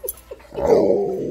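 A dog, a Malamute or Husky, whines and fusses close by, a short yip followed by a sustained, wavering whimper.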